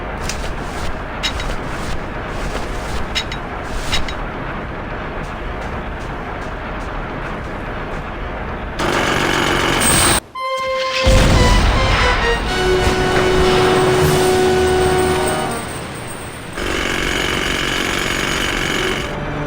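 Rapid metallic chisel hammering from the video game Grim Fandango Remastered, a loud continuous pounding burst with jackhammer-like force and sharp tonal clangs, arriving after a stretch of quieter game ambience.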